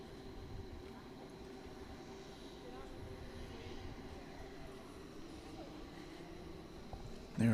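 An airplane departs DFW Airport at night, a faint, steady, distant jet rumble that holds evenly throughout and swells slightly at the very end.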